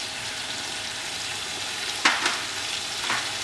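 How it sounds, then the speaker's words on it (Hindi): Chopped tomatoes dropped into mutton and minced meat frying in a pan for biryani, giving a steady loud sizzle with a sharp burst of hissing and a few stirring scrapes. "अब इसके अंदर हम ये हमारे 2 टमाटर जो थे चॉप्ड,"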